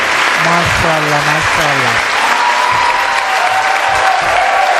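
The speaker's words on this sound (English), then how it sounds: "Let's keep clapping for the winners." An audience at a school annual day award ceremony in Tumkur applauds prize winners with steady, continuous clapping, while someone speaks briefly over the noise.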